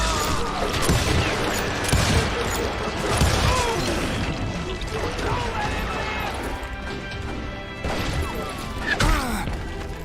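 Gunfire in the video game Call of Juarez Gunslinger, a busy run of sharp shots, clanks and crashes at irregular intervals, mixed with voices speaking.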